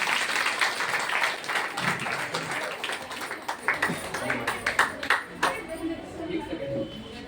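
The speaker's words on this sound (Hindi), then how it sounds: "एक बार जोरदार ताली इस" An audience at an anniversary event for a branch office claps for a child, the applause fairly faint and dense at first, then turning into more distinct, uneven claps, with talking over it.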